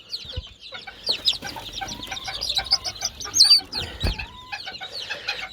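Serama chicks and chickens in a coop, a busy run of high, sharp peeps and chirps with occasional clucks, fairly close and without any voices.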